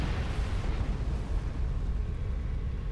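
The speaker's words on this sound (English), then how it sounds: "Central tunnel with explosions all around us." Deep rumbling video game explosions roll continuously through a central tunnel, a dense low boom with no clear gaps, loud and close with no voices.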